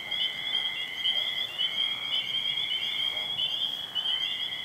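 Toad giving a steady, shrill, high-pitched trilling scream at night, continuous and fairly loud with slight pulsing throughout, with no voices present.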